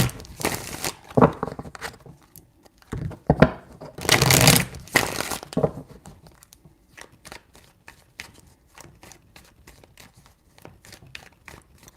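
Tarot cards are shuffled by hand in several crisp riffling bursts, followed by lighter scattered card taps and flicks, close and alone without talk.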